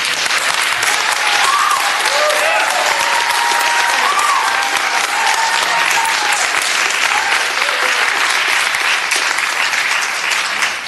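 Sustained audience applause fills a council meeting chamber, a dense, steady wash of many hands clapping at full volume for about eleven seconds with a faint murmur of the crowd beneath.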